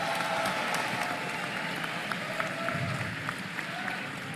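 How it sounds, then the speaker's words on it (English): Audience at a Rubik's cube world championship in Paris applauding, a dense wash of clapping from a large crowd, steady and moderately distant throughout. "Let's have a big round of applause"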